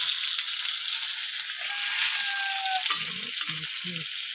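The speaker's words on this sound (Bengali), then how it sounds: "মাছ ভাজা হচ্ছে, এদিকে আমি কচুগুলো ভেঙে নেব।" Tilapia fish fries in a pan of oil, a steady close sizzling hiss throughout, with a few soft knocks near the end.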